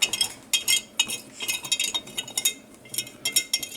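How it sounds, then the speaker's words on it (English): A spoon stirring sourdough starter in a container, a rhythmic run of light clinks and scrapes coming in quick clusters, close and alone. "We'll stir it and mix it all up. You need a spoon, probably."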